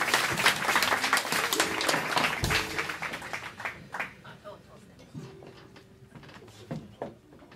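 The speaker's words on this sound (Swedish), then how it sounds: "Han kan ju få en liten applåd" An audience at a live concert at Höörs Gästis in Sweden claps in a brief round of applause, moderately loud at first and then thinning out, with a voice speaking over it.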